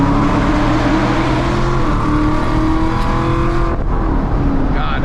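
Procharged Camaro SS running on E85, about 500 wheel horsepower, accelerating hard with a loud, close supercharged roar and steadily climbing whine, with no voices over it.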